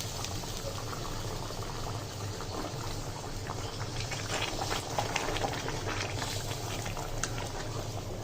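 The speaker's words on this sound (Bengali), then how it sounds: "এখন পানি দিব," Hot water poured into a pan of liver and spleen bhuna produces a steady bubbling, hissing simmer that continues evenly and fairly loud for several seconds, close up, with no talk.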